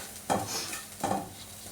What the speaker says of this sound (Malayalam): ഈ പൊടി ഒന്ന് നന്നായിട്ട് ഇതിനകത്ത് ഇടുന്നൊന്ന് ചൂടാക്കി എടുക്കാമേ